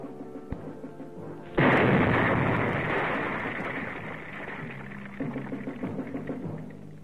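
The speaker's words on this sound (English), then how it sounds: "his mine explodes" A buried mine set off by trained demolition engineers bursts with a sudden loud blast, followed by a long, broad rumbling roar that slowly fades over several seconds.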